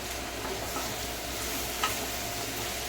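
Paneer bhurji masala of onion, tomato and chilli frying in oil gives a soft, even sizzle throughout, with faint stirring and no talking.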